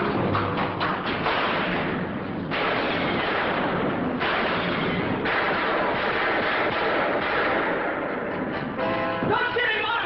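A radio drama shootout from the 1951 Dragnet episode, packed with repeated booming gunshots and heavy thuds in quick succession, loud and continuous, with voices mixed under the bursts.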